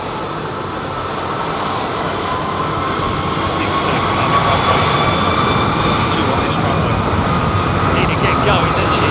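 An MEA Airbus A330-200 with Rolls-Royce Trent 700 engines departs Heathrow, giving a broad, continuous engine roar that builds slightly and holds loud throughout.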